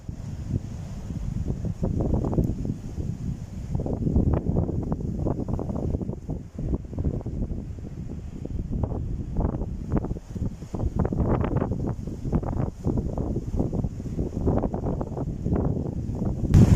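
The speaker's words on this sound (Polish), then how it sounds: "Także wiatr robi swoje." Strong wind gusts roar through a forest, a steady low buffeting rumble with surging peaks and faint rustling, close and loud, no voices.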